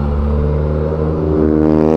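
A loud tuner car accelerates hard away from the Silverstone circuit, its engine note rising steadily and sustained, close and prominent throughout with no talking.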